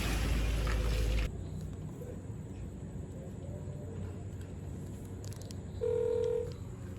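A delivery rider on a roadside dials a phone call to a customer, producing short electronic keypad tones, one loud burst at the start and another near the end, over steady traffic and outdoor background noise.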